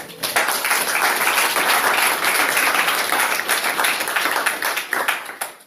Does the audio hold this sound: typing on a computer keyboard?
no